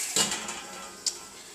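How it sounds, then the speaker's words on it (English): A metal lid is set down on a frying pan of cooking meat, giving a sharp clatter early on and a second quick clink about a second later, both close and clear against a quiet kitchen background. "You can put your lid on it."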